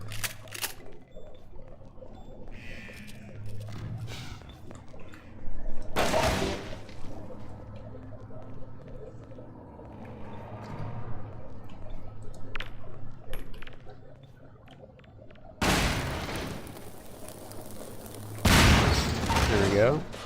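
Half-Life 2 shotgun fire cracks out as several loud, booming single blasts spread across the stretch, separated by quieter game ambience, with a person talking in between.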